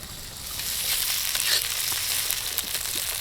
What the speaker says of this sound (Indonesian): Sayo dicampurkan ke dalam bumbu woku yang sudah ditumis harum.